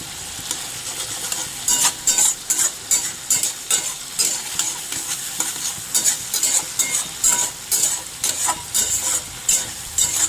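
Tomatoes frying in a pan for a prawn curry, with a steady background sizzle and repeated loud scraping strokes of a spatula stirring them, close and continuous, with no voices.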